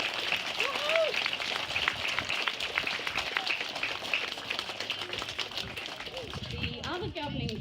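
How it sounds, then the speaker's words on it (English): A crowd applauds outdoors at the official opening of a primary school nature playground, a steady patter of clapping with voices and children's chatter mixed in, fading slightly toward the end. "So let's give our Governing Council Fundraising Committee a big round of applause."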